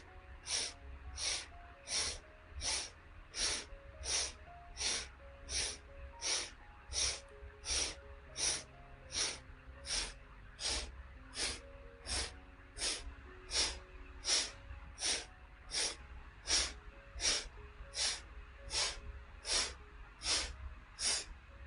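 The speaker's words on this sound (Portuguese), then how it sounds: "a gente vai inspirar pelas duas narinas, vai tampar a direita e soltar pela esquerda" Alternate nostril breathing during a guided breathwork exercise, a long even series of sharp, hissy nasal exhalations and inhalations in a steady rhythm over a low drone.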